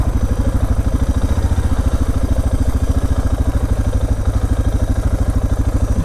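Motorcycle engine idling right after pulling up at night on a road in Argentina, a loud, close, rapid even thumping that keeps a steady rhythm throughout.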